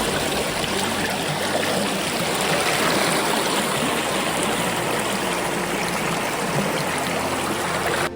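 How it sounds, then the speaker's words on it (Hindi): A forest waterfall and stream at Sita Kund rush in a steady, loud, unbroken wash of flowing water, close by, with no voices. "यह झरना सीता कुंड के नाम से प्रसिद्ध है।"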